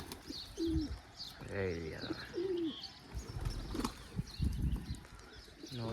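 Domestic pigeons coo and flap their wings in short bursts close by as a flock takes off from a loft, with chirps scattered throughout and someone talking over them.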